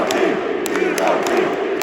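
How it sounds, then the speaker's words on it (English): A sumo wrestling match crowd roars loudly and continuously, a dense close wash of cheering and yelling with a few thuds. "The crowd is going absolutely insane at this point."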